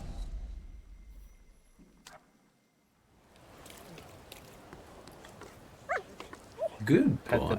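A dog in the video game The Thaumaturge barking and yipping in short, sharp bursts toward the end, following quieter ambience and a near-silent stretch, with someone talking over parts of it.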